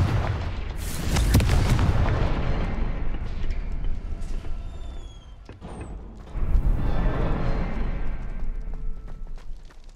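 Booming explosions from the Confringo fire spell in the video game Hogwarts Legacy roll out loud and deep in two long waves, with a brief quieter lull between them.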